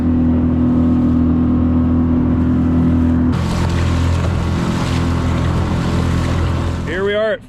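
A small Pond Prowler boat's 4 horsepower outboard motor drones steadily and loudly up close, with wind and water rush growing around it and a brief whine near the end.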